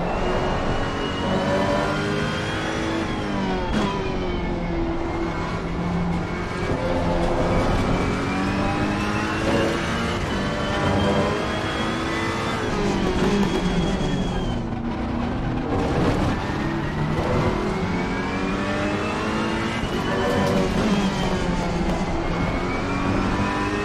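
A race car engine in Assetto Corsa Competizione on PS5 revs continuously, its loud, close pitch sweeping up and down through gear changes and throttle lifts, with no talking.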